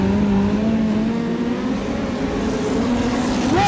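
Midget speedcar engines race around a track in Australia, a sustained loud drone with rising and falling pitch as several cars run nose to tail, climbing sharply in revs near the end.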